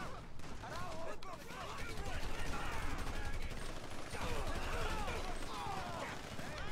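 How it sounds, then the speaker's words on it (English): Dense, continuous gunfire from a police shootout in GTA V with the LSPDFR mod, rapid overlapping shots and bursts filling the whole stretch at a steady, heavy level. "Multiple shots fired."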